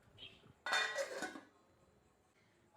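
A lid clatters onto a metal cooking pot of backwater fish curry with tamarind and mango, a single close metallic clank that rings briefly and then dies into quiet.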